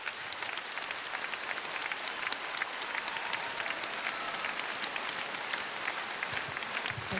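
Audience applause at a jubilee concert evening in Kyiv, a steady, even wash of clapping from a large hall crowd, moderately distant and sustained throughout.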